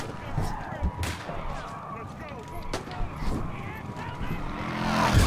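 Gunfire in the driving game Blind Drive, several sharp shots cracking over a dense busy mix of engine and game noise, with loud voices talking throughout.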